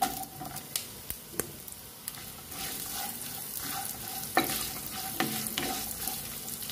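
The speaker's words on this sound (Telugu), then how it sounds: "1/2 బౌల్ క్యారెట్, దీన్ని మనం ఇప్పుడు ఫ్రై చేసుకుందాం" Carrots frying in a pan for semiya upma, a soft steady sizzle broken by repeated light scraping and clicking from the stirring spoon. Moderately quiet, with no talking.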